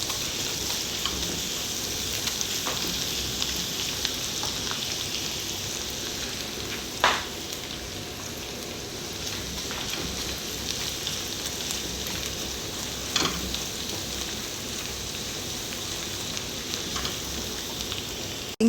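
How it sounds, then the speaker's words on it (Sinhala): Ginger and garlic frying in a pan until golden, a steady close sizzle throughout with occasional sharp clicks of stirring. "අපි ඉඟුරු සුදුලුණු ටික රන්වන් පාට වෙනකම් බැද ගන්න ඕනේ."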